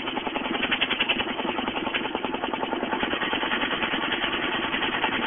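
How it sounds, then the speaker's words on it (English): HHO vacuum pump motor laboring with its tip blocked, a strained, buzzing mechanical drone with a fast pulsing rattle that stays loud and close for about five seconds, no voices. "If I put my finger over the tip, pressure's going to build up"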